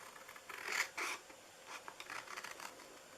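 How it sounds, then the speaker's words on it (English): Quiet, close crisp snipping and rasping of scissors cutting through paper, a few quick cuts followed by lighter scraping. "let me get my other scissors here. We're going to cut off these 4 areas right here."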